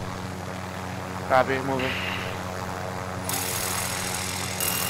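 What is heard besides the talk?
helicopter flying in a video game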